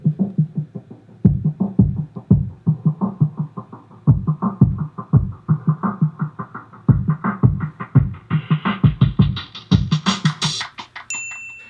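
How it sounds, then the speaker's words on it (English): Programmed beat drums with a channel-EQ filter sweep automated over an intro, the steady low thumping pattern gradually opening up and brightening toward the end, loud and close with no voices. "I have kind of this filter sweeping effect that's on the drums in the intro section"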